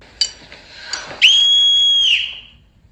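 A loud, shrill whistle blast held for about a second, preceded by a few short chirps, close and alone with no talking.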